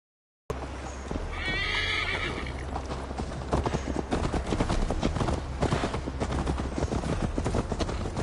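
Horse hooves clip-clopping at a steady pace in the Viking video game, beginning with a clear whinny, then continuous close galloping with rhythmic hoofbeats and harness jingle.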